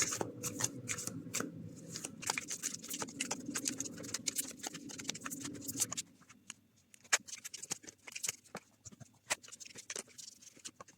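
Tarot cards are shuffled for a card draw, giving a steady, close riffling rustle for about six seconds, then sparser individual taps and slides of cards being handled, with no speech.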